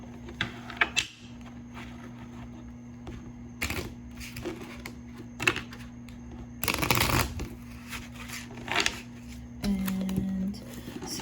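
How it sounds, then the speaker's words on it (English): A deck of cards is shuffled by hand in a run of quick riffling bursts, with close, crisp rustles and flutters repeating over several seconds, separated by short pauses and a soft steady background hum. "So I'm just going to shuffle these really quick."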